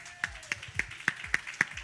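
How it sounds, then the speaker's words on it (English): Clapping at a community outreach session, a few people striking hands in a slow, steady rhythm of about seven sharp claps, spaced evenly and fairly close, with a faint voice underneath. "Clap it up"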